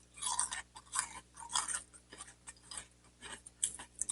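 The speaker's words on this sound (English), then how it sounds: "Let's try the dry crunch." Dry Sugar Cookie Toast Crunch cereal crunched in the mouth, a series of crisp, close chewing bursts with short pauses between bites and no talking.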